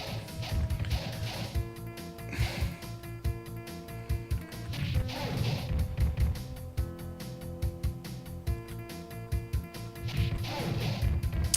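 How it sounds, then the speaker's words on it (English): Glass-smashing hits in a 2.5D beat-em-up arcade game, sharp crashes and thwacks repeating in rapid bursts over busy game music, with whooshing swings between impacts. "apparently steel makes the sound of smashing glass"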